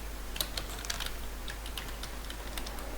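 Steady computer keyboard typing of code, a continuous run of close, crisp key clicks over a constant low hum, with no voices.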